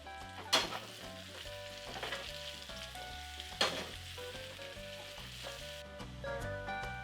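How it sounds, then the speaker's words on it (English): Shallots, garlic and fresh herbs sizzle steadily in a hot pan alongside potatoes for a beef ribeye and mushroom dinner, with a continuous close crackle, two sharp clatters of stirring, and a faint melodic tone underneath. "In goes the rest of the shallots, garlic, the rest of the fresh herbs."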